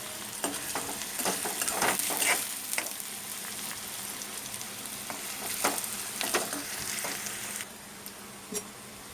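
Chopped onion for egg curry frying and sizzling in a pan, a steady close crackle with intermittent scraping clicks of stirring, no voices.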